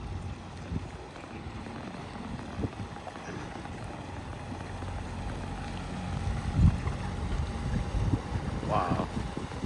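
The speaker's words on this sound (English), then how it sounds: "Somebody's driving a boat there." A boat moves along the river at Stratford-upon-Avon, Warwickshire, as a low, steady engine drone under wind noise, with a person talking nearby.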